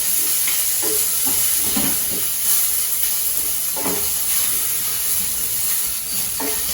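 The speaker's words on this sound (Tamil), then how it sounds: "பச்சை மிளகாய் லேசாக ஒரு வதங்கணும். படப்படன்னு பொரியட்டும்." Green chilies, curry leaves and grated coconut fry in a hot pan for a raw mango chutney, giving a continuous bright sizzle and hiss with scattered crackles and pops as the ingredients are stirred, close and steady throughout.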